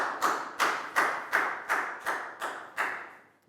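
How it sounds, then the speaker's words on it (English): A Year 4 science class claps for a student in a slow, unison rhythm: about nine evenly spaced, sharp group claps, each fading before the next, with no talking. "a round of applause for Prau too"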